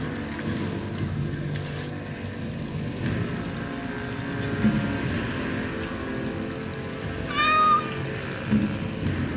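Kitten Sir Pounce-a-Lot in the Dragon Age video game gives one short, thin meow near the end, heard over a loud, rumbling low ambient drone.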